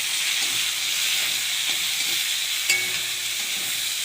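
Onions fry in hot oil in a wok after dry chillies and cumin, a close, steady sizzle with occasional scraping stirs and one sharp clink, no voices present.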